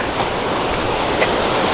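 River water flows under the Omae bridge in Gunma, Japan, as a loud, steady, close rushing sound with no break.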